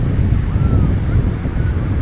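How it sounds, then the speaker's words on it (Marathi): Steady cool wind at a Konkan beach buffets the microphone in a low, rumbling roar, with a faint wash of surf behind it and no talking. "हा थंड थंड वारा एकदम भारी वाटते"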